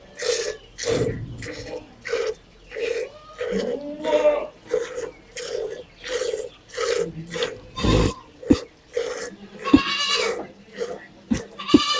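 A goat is milked by hand, with rhythmic squirting and rubbing strokes repeating steadily at close range, broken by an occasional bleat or low animal grunt.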